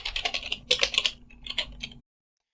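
Rapid keystrokes on a computer keyboard entering an nmap command, close and crisp in two quick bursts before falling silent.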